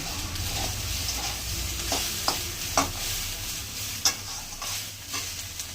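A tomato fries in ghee for a peanut paneer dish, a continuous soft frying sizzle with occasional spoon scrapes and light knocks against the pan, close by and with no talking.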